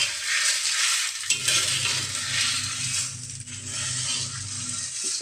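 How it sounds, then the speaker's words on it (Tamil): Idli podi spices and salt dry-roast in a pan, giving a continuous close, dry rustling hiss with scraping stirs and a few small knocks, and no voices. "சேர்த்துட்டு உப்பும் போட்டு இதிலே வறுத்துடுறோம்."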